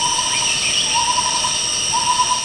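Birds call in Lawachara forest in Bangladesh, with a repeated hooting note close and clear over a steady bed of high insect-like drones and forest ambience.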